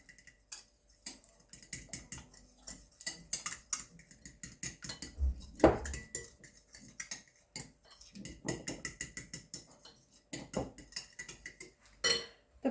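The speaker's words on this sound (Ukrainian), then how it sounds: "Все так виделкою перемішую." A fork taps and scrapes quickly against a bowl in an irregular rhythm, mixing sour cream and mayonnaise batter for a cauliflower casserole up close with no voices.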